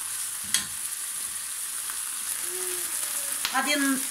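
Chicken pieces browning in a hot pan give a soft, steady sizzle, with a few sharp scrapes and clatters of a utensil stirring them and a brief burst of spitting fat near the end.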